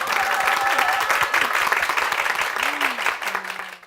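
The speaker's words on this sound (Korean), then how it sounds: "우리 교회와 담임 목사님 위해서 다시 한번 큰 박수 부탁드리겠습니다" A church congregation applauds in a dense, steady burst of clapping that fills the room and then fades out at the end, with some voices mixed in underneath.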